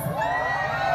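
A crowd of people from Davao shouts and cheers together in a steady, dense roar, loud and close throughout the brief moment with no clear single voice standing out.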